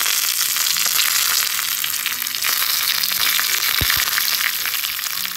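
Curry leaves sizzle and crackle in hot oil while tempering for a Kerala fish curry, a steady loud frying hiss throughout with a sharp pop near the end.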